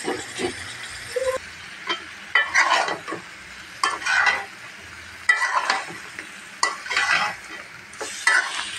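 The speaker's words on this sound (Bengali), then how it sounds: "ভালো করে কষিয়ে নিচ্ছি" Beef head meat with garam masala being sautéed in a pot, with repeated bursts of spoon-stirring scrapes over a steady sizzle, loud and close.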